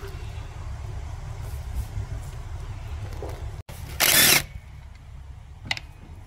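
A power tool briefly whirs while backing out 10mm bolts on a Lexus IS250 engine during injector removal, a single short burst of buzzing near the tool over a quiet garage background, with a faint click afterward.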